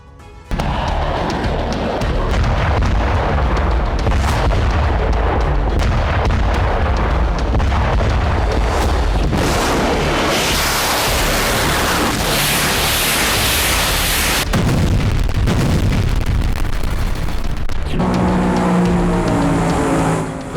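Artillery shelling in the Ukraine war comes as heavy, continuous booming and roaring noise, loud and dense for the whole stretch, with rumbling blasts blending into a harsh wash and shifting tone near the end.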